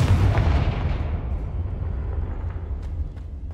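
A Confringo fire spell goes off in Hogwarts Legacy as one loud, deep boom, which then rolls away into a long, fading rumble.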